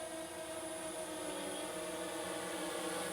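A DJI S1000 multirotor drone hovers as it comes in to land, its rotors making a steady, faint, even whine and hum that holds constant throughout.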